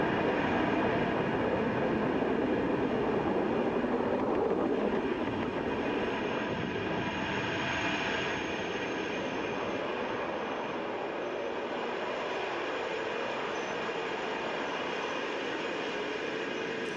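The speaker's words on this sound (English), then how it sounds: "Falcon 9 has lifted off from Space Launch Complex 40 at Cape Canaveral Space Force Station" A SpaceX Falcon 9 rocket lifting off from Space Launch Complex 40 at Cape Canaveral Space Force Station with a military reconnaissance satellite, a continuous, dense, distant roar and rumble that holds steady throughout and eases slightly toward the end.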